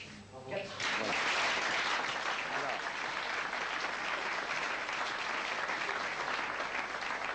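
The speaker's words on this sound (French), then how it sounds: "Des applaudissements pour Greten qui vient de réussir en une seule reprise les 400 points" After a brief voice, a full audience bursts into loud, sustained applause at a 1986 free-game billiards match, hailing a player's 400-point single run. The dense clapping holds steady to the end.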